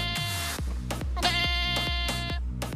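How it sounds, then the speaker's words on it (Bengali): Phone ringtone of a goat bleating, heard inside a car: a series of loud, wavering bleats repeating in a regular rhythm, close and clear with no talking. "এই যে ছাগলের রিংটোনটা আমি কেন দিছি"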